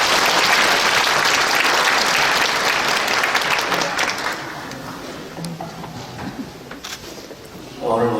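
A church congregation applauds to welcome pastors at a Korean retirement and ordination thanksgiving service, loud sustained clapping that gradually thins and fades toward the end, with a brief renewed burst at the close.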